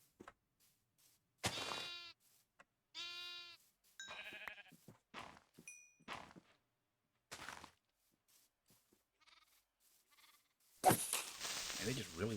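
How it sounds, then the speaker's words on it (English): Minecraft sheep bleat in short, wavering calls scattered among sparse game sounds, fairly close and clear with quiet gaps between them. "Sheep hanging out over here."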